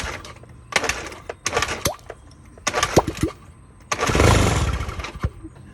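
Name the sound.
motorcycle engine starting after carburetor cleaning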